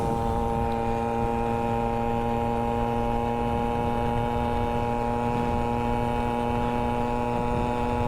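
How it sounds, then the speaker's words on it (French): A moped engine strains at a steady high speed, around 35 to 40 km/h, with a constant buzzing drone and harmonic whine that holds unbroken and loud throughout, with no talking. "Le moteur est déjà en sueur."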